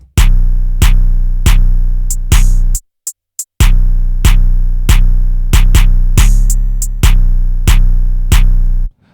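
A trap drum loop played alone: booming 808 kicks and sharp snares in a steady bounce, with a brief drop-out near the middle before the pattern returns.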